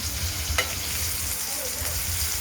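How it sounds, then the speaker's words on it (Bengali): Potatoes sizzle and crackle as they fry in a pot for a paneer curry. The steady hiss continues throughout, with a brief stirring scrape near the start. "আলুগুলো ভাজা হচ্ছে তখন"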